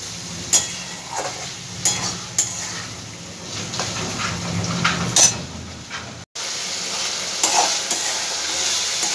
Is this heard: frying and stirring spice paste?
yes